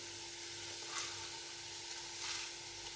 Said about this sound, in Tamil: இப்போ புதினா இலை சேர்த்து நல்லா புதினா இலை வதங்கி வர வரைக்கும் வதக்கிக்கொள்வோம்